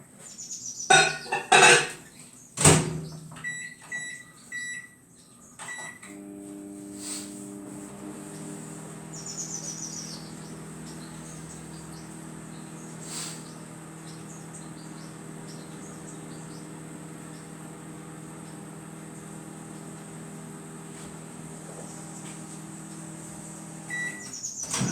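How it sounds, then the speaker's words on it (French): A microwave oven runs while melting a small piece of butter in a home kitchen, opening with a few sharp clicks and beeps, then a steady low electrical hum that drones on alone to the end. "je vais le passer au micro-ondes, comme ça"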